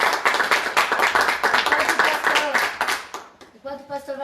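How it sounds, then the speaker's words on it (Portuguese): A church congregation claps together in quick, steady applause during a service, the rhythmic hand claps close and loud before fading into scattered claps and a brief tone at the end. "podem aplaudir o Senhor Jesus nessa noite?"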